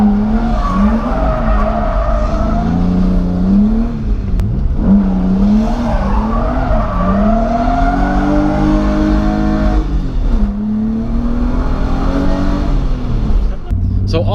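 BMW M3 driving slowly through a close-walled lot, engine droning steadily with rising and falling revs throughout, loud and near, with someone talking over it.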